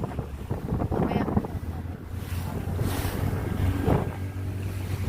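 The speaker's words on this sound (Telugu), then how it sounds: "బాబోయ్ నీళ్ళు పడుతున్నాయి ఒక పక్క" Water rushes and splashes around a moving boat, with strong wind buffeting the microphone throughout; a faint voice is heard briefly.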